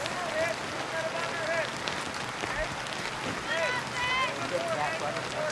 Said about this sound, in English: It's obviously pouring rain, as you can see